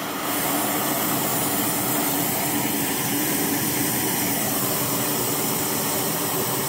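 Naturehike and BRS 3000T backpacking stoves burn together at full flame, a loud steady roaring hiss that runs unbroken with no talk.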